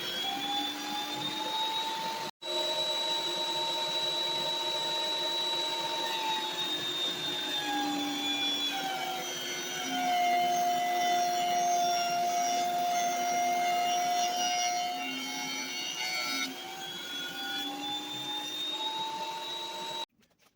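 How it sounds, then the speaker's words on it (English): A wood planer runs steadily as 2x4 boards are fed through it, giving a loud, sustained whine with a strong high tone. The pitch dips briefly near the start, then shifts partway through as the load changes. There is no talk over it. "So it was off to the planer and give them a couple passes through to make sure that happened"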